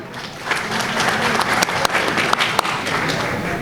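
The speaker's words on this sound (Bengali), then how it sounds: "তো চলেন আমরা একটা তালি দিয়ে একজন আরেকজনকে অ্যাপ্রিসিয়েট করি।" An indoor audience at a talk applauds, giving a dense, steady burst of many hands clapping that stays loud and close throughout, with no voice heard over it.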